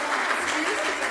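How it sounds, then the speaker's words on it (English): Audience applause at a Cherokee National Youth Choir performance, a brief burst of many hands clapping with voices mixed in. "Give a big applause"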